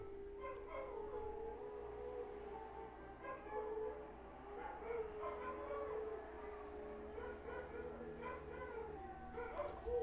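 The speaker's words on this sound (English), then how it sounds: "Let's give the dogs a moment." Several dogs howl and yip in a drawn-out, overlapping chorus that carries on steadily, faint and somewhat distant, with a low background hum throughout.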